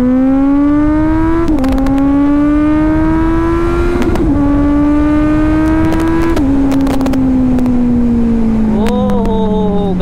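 A Kawasaki Z900 BS6 motorcycle accelerates hard in first gear, its engine note climbing steadily and loud close up, broken by brief dips at about 1.5, 4 and 6.5 seconds before a final drop near the end.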